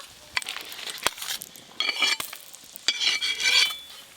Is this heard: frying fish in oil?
yes